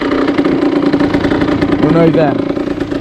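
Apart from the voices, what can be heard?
Derbi Senda 50cc two-stroke motorcycle engine idling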